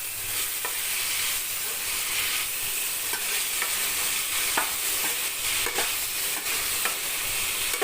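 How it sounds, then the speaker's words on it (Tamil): Continuous hiss of cabbage and its stems sautéing with turmeric and salt in a hot pan, with frequent scraping and stirring clicks of a spoon, close and steady without any talking. "இப்போ ரெண்டையும் போட்டு வதக்கிக்கலாம்"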